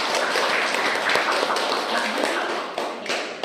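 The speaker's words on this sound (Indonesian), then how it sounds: "Tepuk tangan dulu dong, anak-anaknya." Schoolchildren clap together in a classroom, a dense, steady burst of many small hands that lasts throughout, close and loud, with no talk over it.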